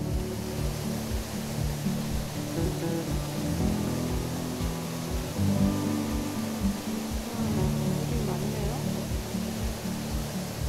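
Flowing water rushes continuously at a forest recreation area near Cheongpyeong, a dense, steady roar close by, with people talking faintly beneath it.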